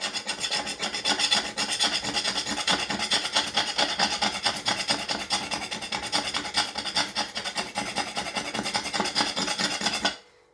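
A slanted knife scrapes grease and carbon off ceramic hob glass, giving a continuous, close, harsh rasping that keeps going for about ten seconds before stopping abruptly.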